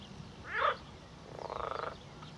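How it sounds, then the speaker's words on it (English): Hungarian marsh frogs at a pond in Kent give two croaks: a short bright call, then a longer rattling, pulsed croak, moderately near over quiet background hiss. "something I'm encountering a lot in Kent now, those Hungarian marsh frogs"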